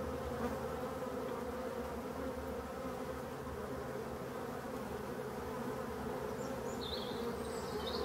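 Honeybees hum in a steady, even drone around abandoned beehives in a forest, a dense swarm buzz that holds throughout with no voices.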